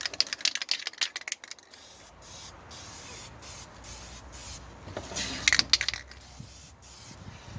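Spray onto a chrome car wheel laid on an old table: a steady aerosol hiss with clicks and taps at the start and a burst of sharp rattling near the end.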